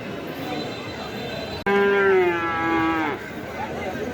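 A cow at a busy cattle market moos once, a long loud low call lasting over a second, set against a constant murmur of crowd chatter and distant voices.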